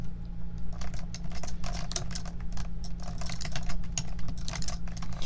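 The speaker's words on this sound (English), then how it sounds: "I'm really hoping like the keyboard tapping doesn't sound bad" Rapid clicking of computer keys in irregular bursts over a steady low electrical hum, close to the microphone.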